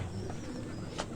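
Pigeons at a loft coo softly amid low outdoor background noise, one short brighter call standing out near the end of the brief stretch.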